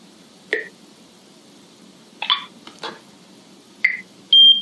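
BioStation 2 access control device set as an intrusion alarm zone, giving short electronic beeps after the F1 key is held, a few separate chirps and clicks followed by a longer steady tone, near and clear in a quiet room.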